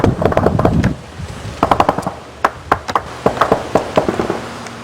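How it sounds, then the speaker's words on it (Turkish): Bursts of rapid cracking gunfire ring out at a distance from across the Syrian border, heard from a Turkish border village in Hatay, in short irregular volleys over a faint background hiss. "Silah sesleri Hatay'ın Yayladağ ilçesi Güveççi köyünden duyuldu."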